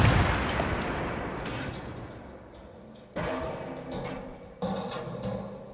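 A Carl Gustaf 84mm recoilless rifle fires in three booming shots: a heavy blast at the start, then two more about 1.5 seconds apart, each followed by a rolling echo that slowly fades.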